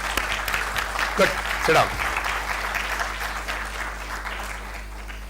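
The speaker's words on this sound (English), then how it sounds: "So I request all of you to applaud." Audience applause at a medical conference on myeloma, a steady broad patter of clapping under a loud room hum, with someone briefly speaking over it.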